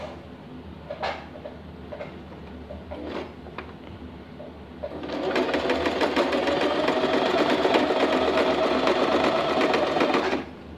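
A sewing machine stitches a lining for crochet work, first a few scattered clicks, then a steady, loud mechanical whirr of running stitches for several seconds before stopping.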